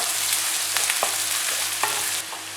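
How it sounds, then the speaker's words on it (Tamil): Curry leaves and asafoetida being stirred into frying onions in a pan, a steady oily sizzle broken by several distinct scrapes and clacks of the spoon against the pan, close and fairly loud. "அதோட கருவேப்பிலை, அப்புறம் பெருங்காயம் நல்லா மிக்ஸ் பண்ணிக்கோங்க"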